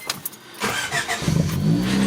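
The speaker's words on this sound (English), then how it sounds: "Let's start the car and let's see if it will start." A 1993 Honda Civic engine cranks and catches after a timing belt replacement, starting about halfway through and settling into a steady, close idle with no talk.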